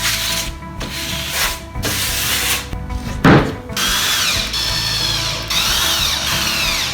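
A power drill drives 1 1/4 inch screws into plywood for a patio deck box floor, whirring steadily and loudly up close in several back-to-back runs with brief pauses between them.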